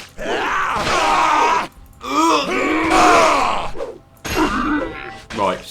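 A goblin in the online fantasy game Darkfall Online lets out loud, strained groans and yells when struck, several drawn-out vocal bursts separated by short pauses.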